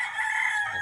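A rooster crows in one sustained, loud call lasting under a second, close by, with no talk over it.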